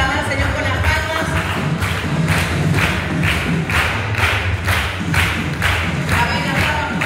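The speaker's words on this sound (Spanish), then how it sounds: "vamos a alabar al Señor con las palmas" A congregation at a Christian school chapel service, a term-closing worship for ninth graders, claps in unison in a steady, even rhythm, the loud, regular beats running throughout over a faint musical bed.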